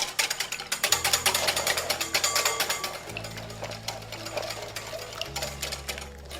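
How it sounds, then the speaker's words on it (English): Two eggs and an egg yolk being quickly mixed in a bowl for red velvet cake batter: a fast, rattling mechanical whir with a steady motor hum that shifts pitch a few times, with no talking. "I'm going to give this a quick mix."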